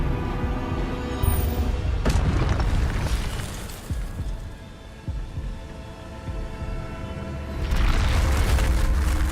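Spell explosions from the video game Hogwarts Legacy boom and rumble loudly in a dense, continuous low roar, with heavier bursts around two seconds and near the end.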